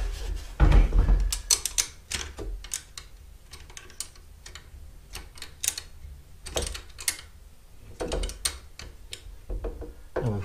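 Screws being tightened on the underside of a foldable electric scooter: a series of small metallic clicks and ratcheting ticks in irregular clusters, fairly close and moderately loud, with no speech.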